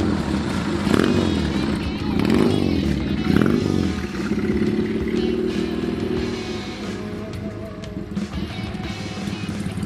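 A hardtail chopper motorcycle rides in second gear around the block, its loud, throaty engine roaring and rising in pulses at close range while people talk over it.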